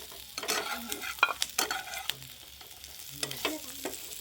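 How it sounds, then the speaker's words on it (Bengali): Pieces of already-fried chicken are tossed into a pan with lightly browned garlic and stirred, producing a crackling sizzle with several bursts of scraping spatula strokes, close up and moderately loud, no speech. "এখন ভেজে নেওয়া চিকেনগুলো দিয়ে দিচ্ছি"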